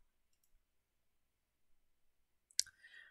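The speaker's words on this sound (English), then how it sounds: "Just click that." A single crisp mouse click lands on a settings checkbox in a quiet room, loud and close, with a faint softer rustle trailing just after.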